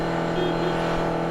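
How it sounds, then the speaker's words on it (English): An Audi RS e-tron GT electric car sounds its feeble horn, a thin, steady, buzzy tone held without a break for the whole moment, close by. "Such a mean looking car and such a lame horn."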